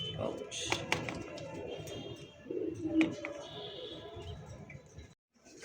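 Racer pigeons coo in low, rolling bursts close by, while people talk over and between the calls.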